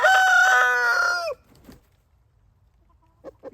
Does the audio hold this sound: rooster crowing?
yes